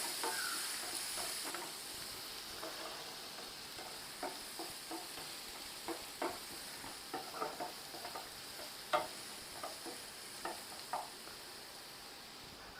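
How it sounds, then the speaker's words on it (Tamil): Sliced onion sizzles in oil in a pan for a Nilgiris egg masala, with a steady frying hiss and repeated soft scraping strokes of a spoon stirring it, fairly close and moderately quiet, with no voices. "இதை நல்லா கலந்து விட்டுக்கலாம்."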